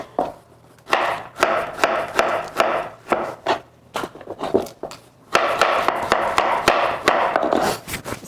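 A zigzag cutter chops through carrot on a board, sharp repeated knife strikes in irregular bursts, loud and close, with brief pauses between runs of cuts.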